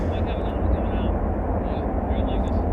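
A United Boeing 767-300ER, arriving at Chicago O'Hare from London Heathrow, gives a steady, loud broadband jet roar that holds constant throughout without breaks.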